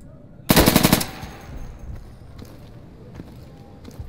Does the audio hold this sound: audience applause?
no